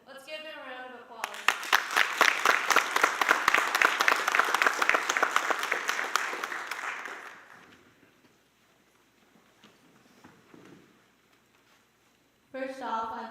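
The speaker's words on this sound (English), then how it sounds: "Let's give them a round of applause." A crowd at an FFA awards banquet bursts into applause after a short spoken line, clapping loudly for several seconds before fading out; a voice resumes talking at the end.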